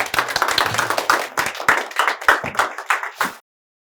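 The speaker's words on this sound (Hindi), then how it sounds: "इसलिए जोरदार तालियों से स्वागत करते हैं हम दीपा भाटी का।" A studio audience applauds loudly at a talk event, a dense burst of clapping that runs steadily for about three seconds and then stops abruptly into silence.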